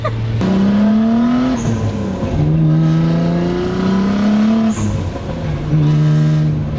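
A big-turbo Nissan 300ZX with a VG30 engine and around 750 wheel horsepower accelerates hard on a highway. The engine drones and climbs loudly through the gears, with a brief dip and a turbo whoosh at each shift.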